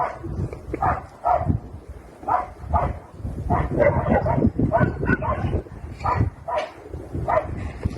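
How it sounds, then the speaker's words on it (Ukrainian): Dogs bark and yelp in repeated bursts near a rooftop as forest and houses burn nearby, a steady, agitated chorus with some whimpering. "собаки лають, нервничають."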